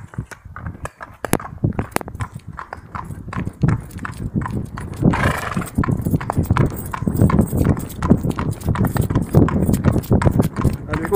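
A horse trots with a steady, rhythmic clip-clop of hooves, close and clear throughout, while a voice speaks over it at times.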